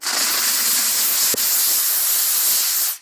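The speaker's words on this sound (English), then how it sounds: "take a steam cleaner to them." A steam cleaner blasts a steady, loud hiss onto the dirty soles of adidas Ultra Boost shoes, broken only by a brief click midway before cutting off.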